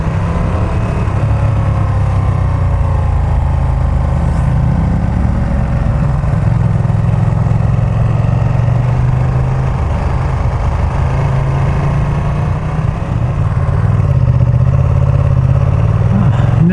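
A motorcycle engine drones loud and close while riding, its low rumble swelling and easing slightly as the throttle opens, over constant wind noise.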